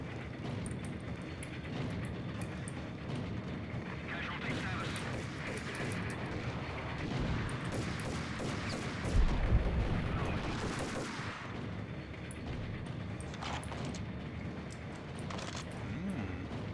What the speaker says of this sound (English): Grenade launcher, you say?